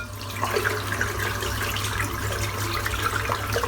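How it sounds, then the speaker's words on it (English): Running water from a tap rinsing shaving soap off a boar-bristle shaving brush: a steady, close splashing flow with small drips and spatters, continuous and fairly loud, with a low hum underneath and no talk. "Rinse the soap out."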